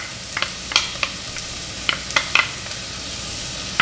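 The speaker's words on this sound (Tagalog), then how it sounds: "Igisa lang natin ito at pagkatapos ilagay na natin dito kagad yung bawang" Crushed, chopped garlic and onion sautéing in a pan for beef mechado, with a steady sizzle and occasional spatula scrapes and stirring clicks, close and alone.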